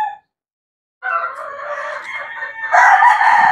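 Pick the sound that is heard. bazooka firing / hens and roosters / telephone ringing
hens and roosters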